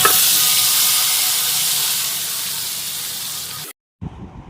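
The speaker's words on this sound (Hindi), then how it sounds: "अब लगाते हैं ज़बरदस्त बघार" Loud, steady sizzling of spices and dried red chilies hitting hot oil to temper dahi kadhi, a dense crackling hiss that cuts off abruptly, followed by a brief quieter bubbling.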